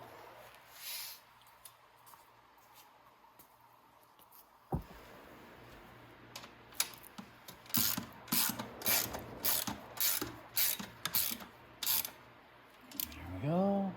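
Quick ratcheting clicks in short repeated bursts as a hand ratchet snugs down the final bolt on the gas tank of a Venom 110cc Mini Madix ATV, close and fairly loud, with a brief murmur of voice at the end.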